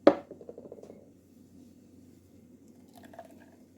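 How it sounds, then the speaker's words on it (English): Almond milk squeezed by hand through a nut bag into a bowl, giving a single close wet squish followed by soft dripping and trickling liquid that fades to quiet. "you just squeeze it out like that. You just squeeze out all your pulp like that."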